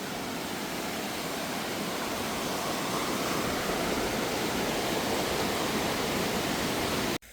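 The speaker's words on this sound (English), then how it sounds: "you can tell we've gotten plenty of rain." River swollen after heavy rain, rushing water making a dense, steady roar that runs unbroken and loud nearby, with no voices, before cutting off abruptly at the end.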